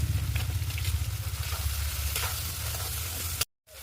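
Onion, tomato, ginger and garlic frying with salt and turmeric in a pan, a close, dense crackling sizzle with a low rumbling bubble underneath, steady for over three seconds before cutting off abruptly.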